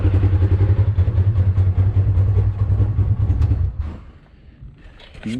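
A 2015 Polaris RZR XP 4 1000 with misfire codes and a fuel pump problem idles with a steady, loud low rumble that clatters slightly, then drops away abruptly near the end and briefly picks up again.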